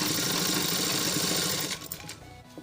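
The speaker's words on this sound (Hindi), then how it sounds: "कुछ इस तरह से हम दोनों कॉर्नर पे कॉर्नर मिक्स करते हुए हम सिलाई लगा लेंगे।" Sewing machine stitching a salwar, a steady fast mechanical whir of close stitching that runs evenly and then slows and fades in the last second.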